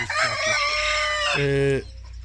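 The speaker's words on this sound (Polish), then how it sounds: "kura z kogutem się biją" A hen and a rooster fighting at close range: loud agitated clucking and squawking, then a strong rooster crow that cuts off sharply near the end, with no people talking.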